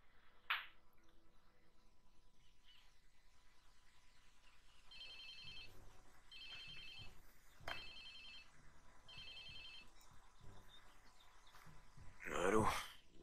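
A phone in a video game rings four times in evenly spaced electronic bursts, fairly faint against a quiet background, with a few breathy vocal sounds before and after.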